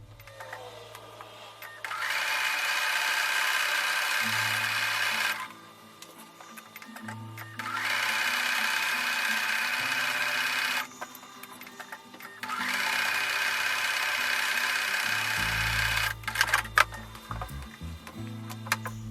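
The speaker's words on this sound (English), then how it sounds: "So now I'm going to go back over to the sewing machine." Sewing machine stitching a quilt block in three long steady bursts of fast even whirring, each several seconds long with short pauses between, close and loud, followed by a few brief clicks.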